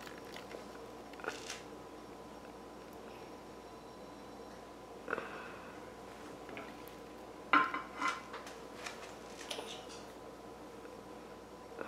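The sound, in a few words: flat spatula smoothing Turkish delight mixture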